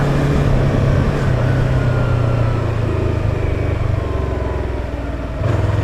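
A faulty Yamaha R25 motorcycle engine runs loud and close in a steady, low idling drone that holds for about six seconds and dips slightly near the end.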